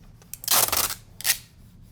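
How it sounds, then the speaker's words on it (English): A screen printing stencil is rubbed and burnished down onto the mesh so its adhesive bonds, giving two close, brisk scraping strokes, the first longer and louder, the second shorter, alone in a quiet room. "Go ahead and burnish that down."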